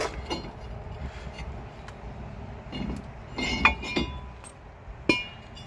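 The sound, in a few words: brake rotor being removed from GMC Sierra hub, metal clinking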